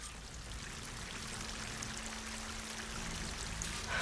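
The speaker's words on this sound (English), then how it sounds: "That waterfall must be coming from somewhere." A waterfall in the video game Horizon Forbidden West, a steady, even rush of falling water heard alone at moderate distance, with a faint low tone running through it.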